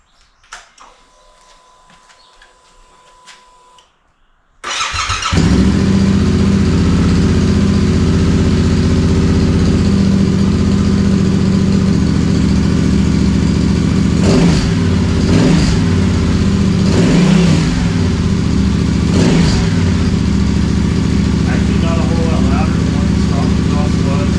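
After a quiet start, a Yamaha Tenere 700 motorcycle with a high-mount aftermarket exhaust fires up and idles loudly, its deep exhaust rumble repeatedly revved in short blips, close and sustained throughout.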